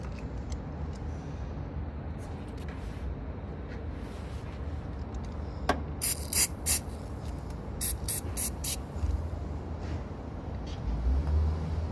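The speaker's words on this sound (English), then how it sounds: "give it another spray with that battery spray" Several short hissing bursts from an aerosol can of battery terminal cleaner, close by, over a steady background of passing road traffic.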